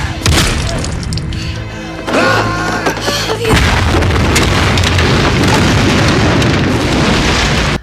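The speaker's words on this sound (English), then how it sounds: "She shoots him and he goes back into the bunker and it explodes." A bunker blows up in a film scene: a heavy boom with shattering debris, then a sustained loud roar of explosion and rumble that fills the rest, with no talk over it.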